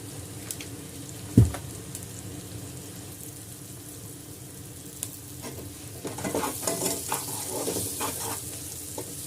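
Onions fry for a fish curry, a moderate sizzle joined by a sharp knock and then bursts of stirring and scraping in the pan toward the end.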